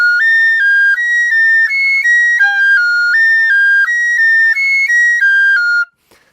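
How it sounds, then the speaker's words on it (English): A Japanese fue bamboo flute plays a scale exercise in its high register, a steady run of bright, pure whistling notes stepping up and down in an even rhythm for about six seconds, close and loud, then stopping abruptly. "It'll sound like this at the high end of the flute."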